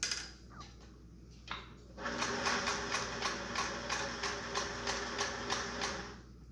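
A sewing machine runs a 1/4 inch seam on a cloth face mask, its fast needle chatter pulsing steadily for several seconds after some faint handling clicks, moderately close and alone.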